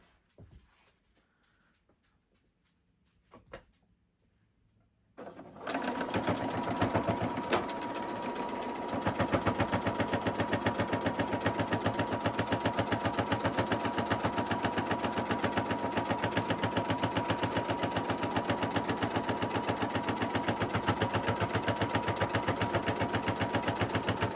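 A sewing machine stitches quilt sashing, starting after a few quiet seconds with some handling noises, then running continuously at a steady, fast rhythm, close and clear with no talking.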